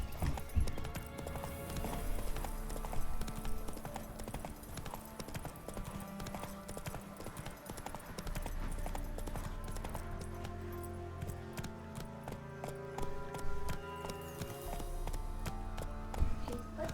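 Hooves of Roach, Geralt's horse in The Witcher 3, beat a loud, close clip-clop throughout, with a short whinny near the start and faint jingling tack.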